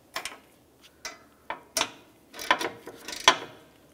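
Socket wrench snugging a 5mm bolt on the AC condenser port of a 2009-2019 Ford Flex, a series of short ratcheting clicks in irregular bursts, close and fairly crisp, with no talking.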